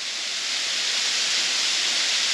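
Continuous close roar of water tumbling down Taian Waterfall in a cool mountain forest, a steady bright wash of sound with no breaks.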